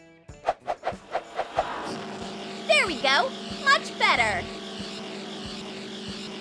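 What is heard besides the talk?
engine starting and running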